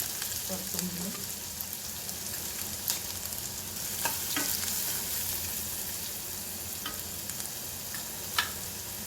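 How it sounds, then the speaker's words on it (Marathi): Oil sizzles hard in a kadai while frying, a dense constant hiss with a few faint clinks and stir sounds, and no talking. "कढईत तेल तापायला ठेवलं आहे चांगलं आपण"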